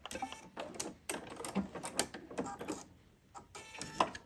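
A serger overstitches the edge of fabric for a Celtic knots project and trims it as it goes, making quiet rapid mechanical chattering in short bursts separated by brief pauses.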